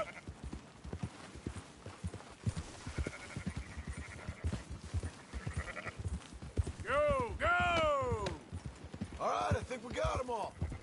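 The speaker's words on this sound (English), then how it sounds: "Marston, why don't you leave the sheep to me?" Sheep bleat in Red Dead Redemption 2 as a flock is herded, several rising calls near the end over steady clip-clop of horse hooves, with people talking throughout.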